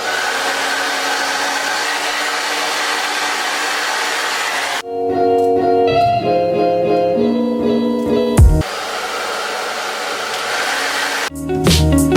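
A hair dryer whirs steadily and close for several seconds, cuts to other noise, then returns blowing before stopping again.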